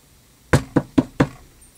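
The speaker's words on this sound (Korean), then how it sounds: "문을 두드리는 소리에 이어 누군가 마스터키를 꽂는 소리가 들렸다." Four sharp knocks on a wooden door in a quick, slightly uneven sequence, close by, against near silence.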